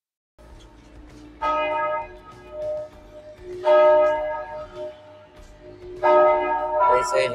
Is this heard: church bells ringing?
yes